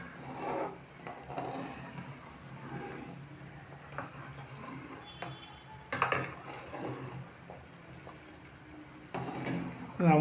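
Spoon stirring kolhapuri dal with Amul butter in a pot, soft scraping and rubbing strokes with faint sizzling, fairly quiet and close, a few sharper clinks toward the end, with a voice talking faintly in the background.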